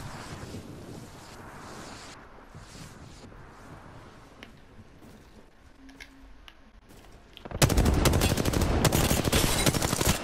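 Gunfire in the video game Apex Legends, a sustained loud burst of rapid automatic fire erupting near the end after a stretch of muffled, windy background rumble.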